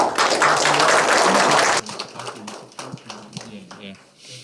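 Dense applause from a forum audience in Seoul welcoming a speaker at a 2022 presidential election social solidarity debate. It bursts loudly for under two seconds and then cuts off as a voice begins talking.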